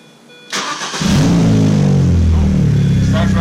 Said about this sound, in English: let's see if this vehicle is going to start